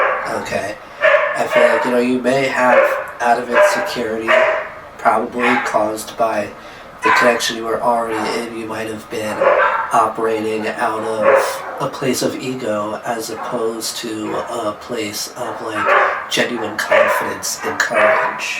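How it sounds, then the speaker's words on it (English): Dogs bark and yip excitedly in the background at home as a car pulls into the driveway, intermittent and fairly close, under continuous speech from someone talking. "I'm sorry about the dogs."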